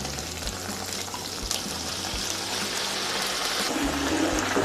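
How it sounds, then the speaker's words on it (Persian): Steady stream of water from a glass poured into fried tomato paste for Iranian shami kabab, a continuous close gush running without break and growing slightly louder toward the end. "رب رو تف دادیم، وقتشه که یه لیوان آب اضافه کنیم بهش."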